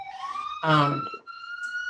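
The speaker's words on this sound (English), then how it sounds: "there's a siren" A siren wails outside during an online Juneteenth community celebration, its steady rising tone running under a person speaking nearby, moderately loud and slightly distant.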